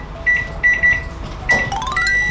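A microwave oven heating chocolate with sugar, uncovered, at 600 watts, sounds off with several short, loud electronic beeps in an uneven pattern, close by and alone.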